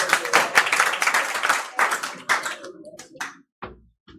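Clapping from a gathered audience at a student awards ceremony for tenth and twelfth grade board exam toppers, fairly close and brisk at first, then thinning out into scattered final claps and a few isolated taps.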